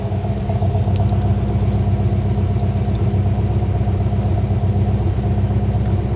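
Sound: 1965 Ford Mustang exhaust idling, trumpet exhaust tips

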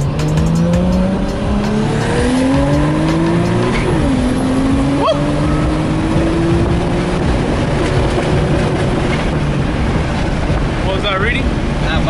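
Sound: Nissan R32 Skyline accelerating hard under boost

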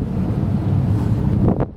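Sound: wind blowing while docking a boat

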